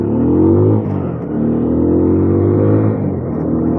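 A TVS Apache RTR 200 4V motorcycle in sport mode and first gear revs its engine, giving a loud, steady, close drone whose pitch climbs and then briefly dips before holding again.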